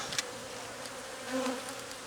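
Agitated honeybees from an aggressive hive buzz thickly around a beekeeper, a loud steady drone with individual bees whining past close to the ear.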